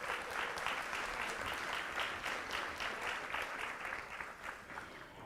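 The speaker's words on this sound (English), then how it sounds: "Let's give Josiah another round of applause." An audience at a school board meeting gives a round of applause, many hands clapping steadily and evenly for several seconds, moderately distant and unaccompanied by speech.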